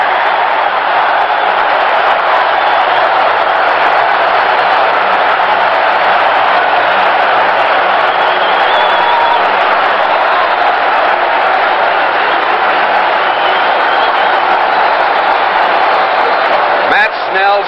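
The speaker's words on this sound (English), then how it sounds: "And listen to this crowd." A 1969 stadium crowd roars steadily after a New York Jets touchdown against the Colts, a broad, sustained din under excited radio play-by-play talk.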